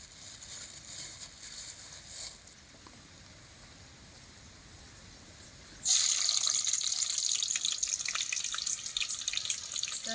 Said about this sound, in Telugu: వేయించిన ఒట్టి చేపలను అయితే బాగా మనం కడిగి అలా పెట్టుకోవాలండి నీళ్ళల్లో